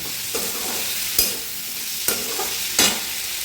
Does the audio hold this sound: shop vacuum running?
no